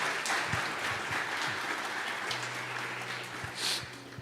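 Church congregation applauding in worship, a steady crowd of clapping hands at moderate level, with a faint low hum beneath and a brief rise near the end.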